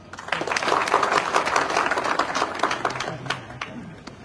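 An audience gives hearty applause for Vinod Jaiswal at a celebration event. Dense clapping rises quickly, holds for a few seconds and then thins out, with a voice heard over it.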